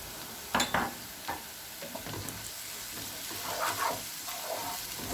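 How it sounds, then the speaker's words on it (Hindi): Ginger garlic paste sizzles in hot oil with cumin, bay leaf and onion for Punjabi chole, a soft steady frying hiss broken by a few scraping stirs of a spoon. "अब इसमें अदरक लहसुन का पेस्ट डाल देंगे"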